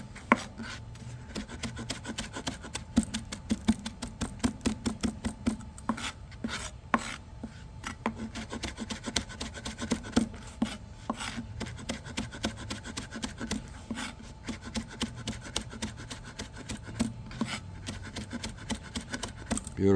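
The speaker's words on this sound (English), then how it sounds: "Let me get this all chopped up nice." Fresh dill being chopped with a knife on a cutting board, a steady run of quick, close, crisp knife taps and scrapes continuing for the whole stretch, with no talking.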